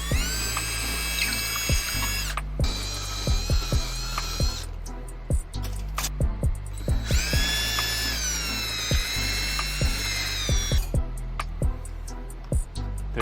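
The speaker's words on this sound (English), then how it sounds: "Now we're gonna drill that first hole." Power drill boring a hole into a ceiling for a backdrop ceiling bracket, whining loudly in two long runs with a short pause between, plus scattered clicks and taps, no talking.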